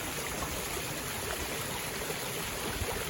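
Hazelbrook, a woodland brook in the Blaise Castle Estate that joins the River Trym, flows steadily with a soft, even trickle and rush of water, with nothing else standing out.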